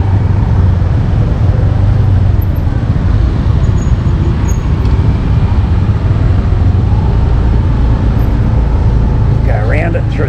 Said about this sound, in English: This is typical traffic around Kuta.